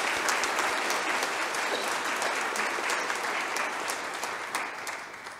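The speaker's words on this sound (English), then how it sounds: "I invite all of you by applause to show your acceptance of these candidates" A church congregation applauds at Sunday Mass to accept candidates, a dense, steady wash of many hands clapping that holds evenly for several seconds and thins slightly near the end.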